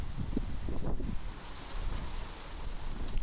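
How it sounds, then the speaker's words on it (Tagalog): Strong typhoon wind buffets a microphone in a crowded parking area during Typhoon Uwan, a loud, continuous rumbling roar with gusty surges and no voices. "malakas na ang hangin"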